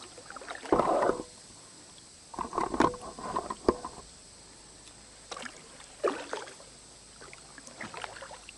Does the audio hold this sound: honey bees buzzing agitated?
no